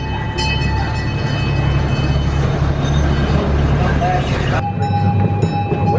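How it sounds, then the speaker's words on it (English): A train ride at Old Tucson Studios rolls along with a steady low rumble and rail drone, a constant tone running through it, while a person talks over the noise. "You can't come to Old Tucson without riding the train"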